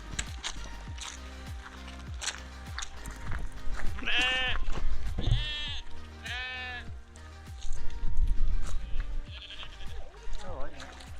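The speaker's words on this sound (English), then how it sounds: "in front of us we've got a load of sheep that are running around going mad" A flock of sheep runs about bleating repeatedly at close range at feeding time, their loud overlapping bleats rising over footsteps and outdoor noise while people talk nearby.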